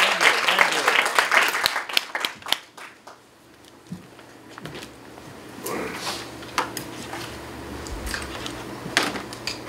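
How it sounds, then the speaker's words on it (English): Scattered audience clapping for the president of the Korean American Federation of Los Angeles before her opening remarks, loud at first, then dwindling to sparse individual claps and room noise. "Big round of applause."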